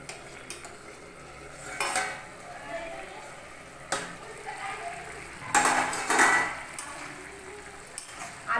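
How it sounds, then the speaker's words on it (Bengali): A spoon stirs potatoes and banana flower in a metal pot, making several distinct scraping and clanking bursts with quieter pauses between them. "এখন আমি এটা নাড়িয়ে দেব"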